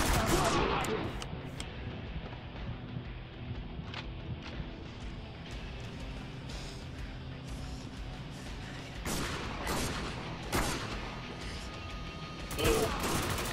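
Gunfire in the video game Spec Ops: The Line sounds as a series of sharp, fairly quiet bursts and single shots scattered across a low mechanical background, with a couple of louder cracks near the end.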